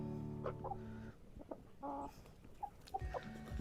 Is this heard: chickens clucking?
yes